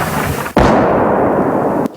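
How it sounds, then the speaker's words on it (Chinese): An artillery shell lands near Bakhmut with one sudden loud blast and a rolling, booming tail lasting over a second, then a sharp second impact. "远处爆炸声象征巴赫姆特近郊一天战况的开始，只是过没多久，又有炮弹落在前方不远处，炮袭声很快变得密集。"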